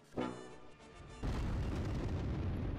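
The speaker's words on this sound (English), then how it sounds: "It starts off with an artillery attack or barrage." Artillery barrage in the Close Combat 3 war game, set at Orlovka: one heavy boom, then after a short lull a dense, continuous roar of explosions that rumbles loudly to the end, with no talk.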